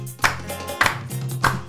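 A cumbia audience claps along to the music, three loud, evenly spaced claps over a steady low musical tone.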